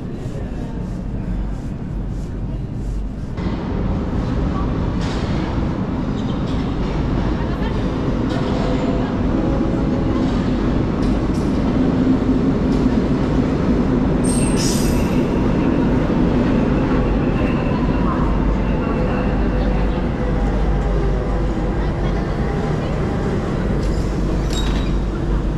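A Lisbon metro subway train runs steadily throughout, a loud continuous rumble of wheels and car noise with a brief high squeal midway, and no talking.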